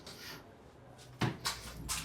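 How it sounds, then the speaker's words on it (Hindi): Doors being pulled shut one after another inside a house in the dead of night: three sharp, moderately loud thuds in quick succession over a low room hush, with no talking. "दरवाजे बंद कर दें"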